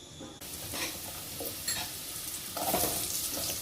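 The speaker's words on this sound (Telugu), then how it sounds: "మష్రూమ్స్ అండి ముందు నేను ఒక్క నిమిషం ఆయిల్లో ఫ్రై చేస్తానండి" Mushroom pieces fry in hot oil in a pan for an Indian mushroom curry, a steady crackling sizzle that briefly gets louder with stirring, with no talking over it.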